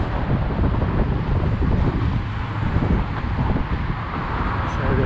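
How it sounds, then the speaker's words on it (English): Steady wind buffets the microphone throughout at Kangaroo Point, Brisbane, a constant loud rumbling roar with a faint washing sound like water beneath it. "A little windy."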